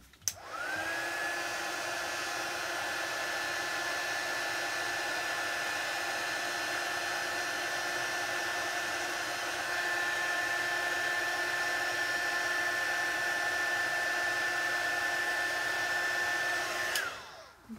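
An embossing heat tool reheats craft material during a card-making stamping session, giving a steady, close, high-pitched whirring blow that starts abruptly and runs evenly for about sixteen seconds before cutting off, with no talk over it.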